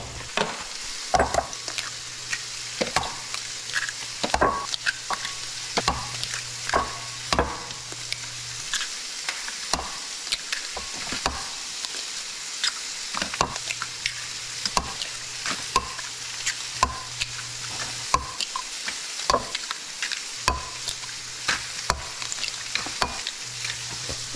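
Eggs being stirred in a pan in a Roblox cooking game: continuous sizzle under a steady background hum, punctuated by frequent sharp clicky stirring taps at an irregular rhythm.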